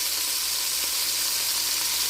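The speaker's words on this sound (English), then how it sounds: "sizzling" Cold meat straight from the refrigerator sears in a cauldron for goulash, giving a loud, steady, close sizzle and hiss that runs unbroken, with no voices.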